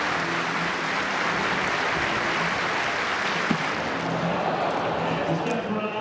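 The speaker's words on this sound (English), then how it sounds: "all clapping for this man on the runway" A stadium crowd at a track meet keeps up a dense, continuous wash of clapping for a long jumper on the runway, with a commentator talking over it.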